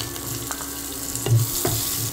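Cumin seeds and chopped onions frying in a pan for jeera rice, a steady close sizzle broken by a few soft stirring scrapes and clinks, no voices.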